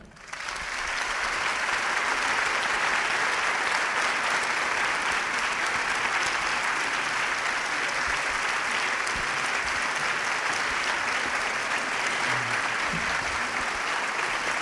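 Sustained audience applause for a history lecturer at a public history lesson, a dense, steady wash of many clapping hands that fills the hall at full volume throughout, with no voices rising above it.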